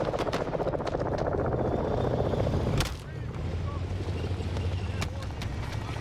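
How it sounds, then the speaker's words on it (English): Helicopters arriving in a Call of Duty video game: a steady, loud rotor chop and engine drone with a sharp hit midway, then a lower continuous rumble of rotors and wind. "Wow, we're coming in with choppers, tanks, and everything."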